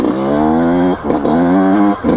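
A 2020 Yamaha YZ125X two-stroke engine revs loud and close at high RPM in a buzzing, harmonic-rich whine. The tone dips briefly twice between sustained bursts.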